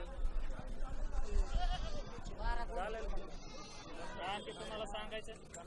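Goats bleat repeatedly at a busy livestock market, several overlapping nasal cries close by, with people talking among the animals throughout.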